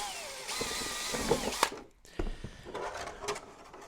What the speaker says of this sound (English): just very lightly drill